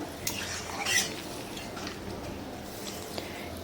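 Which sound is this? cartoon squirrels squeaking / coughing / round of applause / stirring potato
stirring potato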